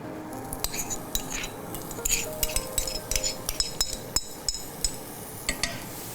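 Ginger garlic paste added to hot oil in a pan, sizzling softly under repeated clinks and scrapes of a metal spoon stirring against the cookware, close and fairly quiet.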